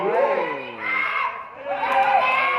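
Supporters of the Doem Mueang Nan takraw team cheer and shout together at a match, with loud, close voices rising in two swelling waves.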